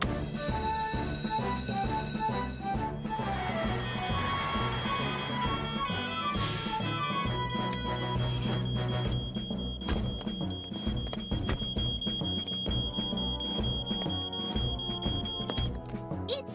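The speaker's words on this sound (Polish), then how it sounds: "Dobrze wiesz, że z tym alarmem jest wszystko w porządku, Norman." In a Fireman Sam cartoon, a shop fire alarm rings with repeated electronic ringing tones over background music and sound effects, a steady high tone sustaining through much of it.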